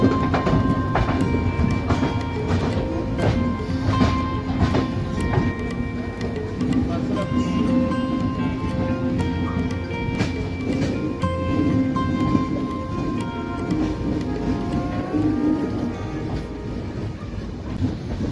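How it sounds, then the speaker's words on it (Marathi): The 12158 Hutatma Express, running Solapur to Pune, pulls out of Solapur railway station with a steady loud rumble and rhythmic wheel clatter that lasts the whole stretch, faint horn-like tones drifting in and out. "आणि काय सुंदर डिपार्चर होत आहे मित्रांनो आपलं सोलापूर रेल्वे स्टेशनवरून"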